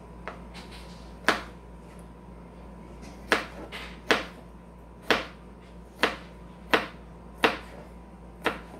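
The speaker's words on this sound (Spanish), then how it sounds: "Esto lo voy a picar así en cuadritos, así bien pequeñitos." A knife dices vegetables into small cubes for Guatemalan bean chepitos, with crisp, evenly paced chops striking the board one by one in a quiet kitchen.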